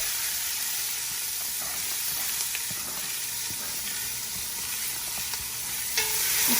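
Carrots and onions hit a pan of hot garlic and fry with a steady sizzle and hiss, with light stirring scrapes and a louder burst of sizzling at the end.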